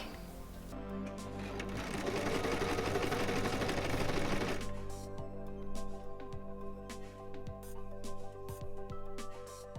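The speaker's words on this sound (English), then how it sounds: "I sewed the central seam" A sewing machine stitches the central seam of an evening jumpsuit in one loud, steady run of about four seconds, followed by quieter handling and faint clicks as the fabric is adjusted; no talking.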